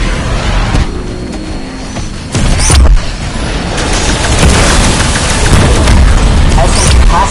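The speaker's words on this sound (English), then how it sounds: "Throwing incendiary." In Cold War Zombies, an incendiary grenade lands with a heavy thump about two seconds in, followed by a loud, sustained roar of fire and gunfire-heavy game noise, with a voice speaking over it.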